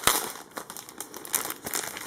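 Packaging of a craft kit holding stickers, papers and felt crinkles and crackles as it is opened, in close, loud bursts of rustling with no talking.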